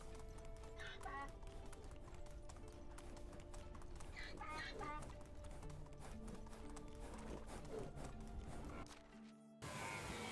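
A horse gallops in the medieval village game Medieval Dynasty with rhythmic, fast clip-clop hoofbeats, a voice speaking over them.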